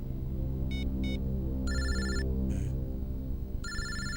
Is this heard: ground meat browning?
no